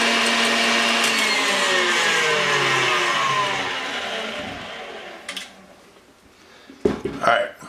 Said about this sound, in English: we're just going to mix this on high speed until we get a little bit of a peak action on this egg whites